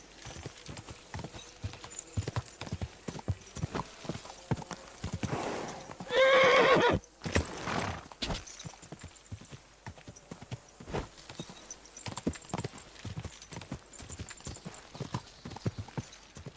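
Rhythmic clip-clop of horse hooves in the video game Kingdom Come: Deliverance 2 on PS5 throughout, broken by one loud, drawn-out whinny partway through.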